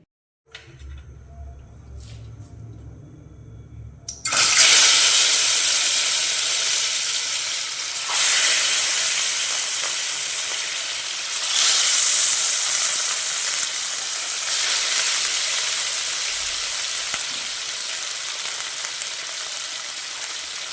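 Katla fish pieces marinated in salt, turmeric and oil hit hot oil with a sudden loud, broad sizzle after a few quiet seconds, then keep frying steadily with swelling and easing crackle as they are turned.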